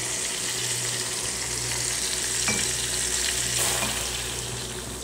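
Loud, steady sizzling and bubbling as half a cup of water is poured into a hot frying pan of chicken leg pieces, a continuous hiss with a couple of faint clinks.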